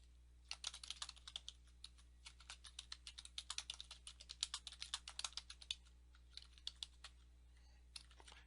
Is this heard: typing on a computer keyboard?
yes